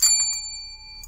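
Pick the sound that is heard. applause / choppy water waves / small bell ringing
small bell ringing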